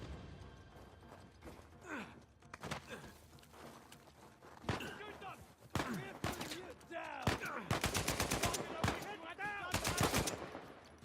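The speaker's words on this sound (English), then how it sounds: "Oh shit, Sam, sniper!" Rapid bursts and single shots of gunfire in the Uncharted video game, with a sniper firing amid a busy firefight, loud cracks and rattling volleys recurring throughout alongside game voices and scattered clatter.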